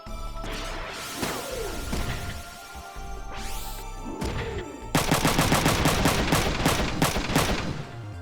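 Mech gunfire from Front Mission 3: rapid bursts of heavy shots with sweeping whooshes, ending in a loud sustained rattling volley.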